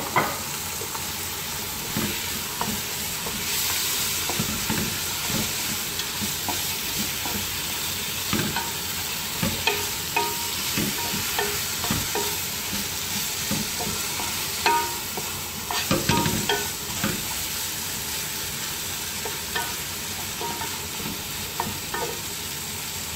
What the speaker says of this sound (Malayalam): അപ്പോൾ അതിനകത്തേക്ക് നമ്മൾ ഈ കഴുകി വെച്ചിരിക്കുന്ന മട്ടൻ ഇടുക.